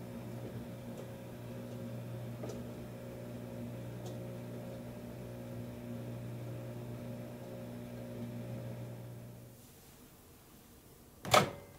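A microwave oven runs on high while baking cake in a mug, giving a steady, low mechanical hum with a faint tonal drone that stops, followed by a sharp, brief beep or click near the end.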